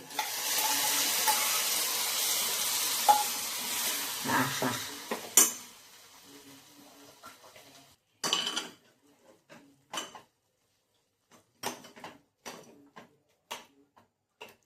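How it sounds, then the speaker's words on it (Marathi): A tempering sizzles in hot oil for toor dal amti in a home kitchen. The loud, steady frying hiss runs for about five seconds, then gives way to scattered utensil clinks and scrapes with no talking. "हे मी फोडणीला टाकते."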